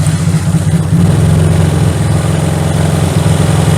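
A Honda Wave motorcycle engine running at idle after starting, a loud, steady low putter with an even rhythm throughout, heard up close with no talking.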